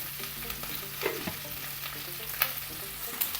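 Okra aviyal cooking in a pan: quiet bubbling and sizzling with soft stirring scrapes and a few brief clatters of a utensil, close by and with no talking.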